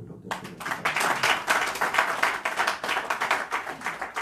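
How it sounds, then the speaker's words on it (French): An audience applauds steadily at a public gathering, dense sustained clapping from many hands filling the space without a break, fairly close and loud throughout. "applaudissez pour le docteur."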